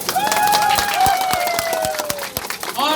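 A crowd at a political election rally claps loudly and quickly, with sharp individual claps standing out over a background of cheering voices, lasting a few seconds.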